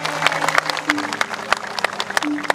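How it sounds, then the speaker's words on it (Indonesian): Scattered audience clapping at an outdoor anniversary event in Bangli, Bali, with sharp separate claps over crowd murmur and a low steady hum. "Tepuk tangannya dong suksesnya Pemda Bangli."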